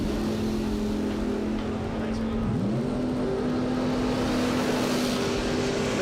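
A Mopar drag race car at a bracket race holds a steady loud engine drone that dips and rises in pitch once, like a gear change, under constant crowd and track noise.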